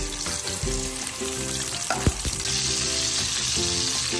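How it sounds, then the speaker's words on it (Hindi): Ginger, garlic and green chili paste frying in hot oil sizzles loudly and continuously up close, with stirring clatter and a sharp utensil knock partway through. "ऑयल गर्म हो गया इसमें जाएगा अदरक लहसुन और सब्ज़ मिर्च का पेस्ट"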